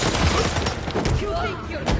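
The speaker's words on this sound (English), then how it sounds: "Opening fire!" Rapid bursts of gunfire crackle in Spider-Man 2 gameplay, dense and loud over a busy mix, with voices shouting alongside.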